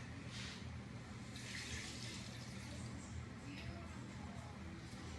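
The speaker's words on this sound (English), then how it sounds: "So to the beef, I'm gonna add 4 cups of water." Water pours into a pot of beef being cooked for chili meat, a faint steady rushing splash that runs unbroken for several seconds at low level.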